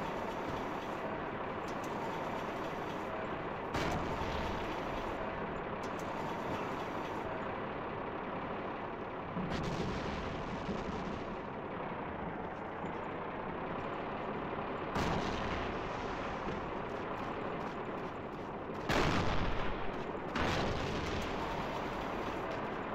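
Battlefield 1 combat with rolling artillery fire and gunshots, several heavy booming blasts standing out over a dense, continuous battle din with no talking.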